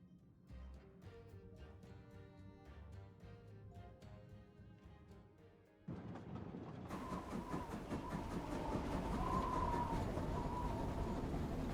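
A moving train rolls steadily along the rails, a loud continuous rumble with rhythmic clattering that swells after a quieter musical opening, with no talking.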